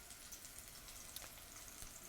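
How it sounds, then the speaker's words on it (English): Fish frying in a hot pan gives off a steady, quiet broadband sizzle with faint crackles, running continuously and alone without any talk. "Nice, get a good sizzle."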